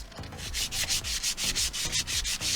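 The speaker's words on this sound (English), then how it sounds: "I'm just going to get to sanding now." Steady back-and-forth strokes of 150 grit sandpaper worked by hand over a wooden chair with damaged finish, a loud rhythmic scratchy rasp repeating about every quarter second, close and alone.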